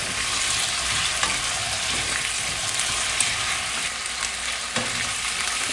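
Beef and potatoes fry for caldereta in a hot pan, giving a steady, dense sizzle with faint occasional stirring clicks, close and continuous without any voices.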